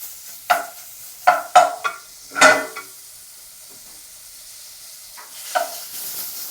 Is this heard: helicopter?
no